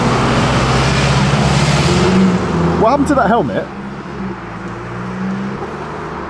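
Busy London road traffic on Christmas Day, heard from a bike: a close, loud wash of cars and engines that eases off after a few seconds, while someone talks over it.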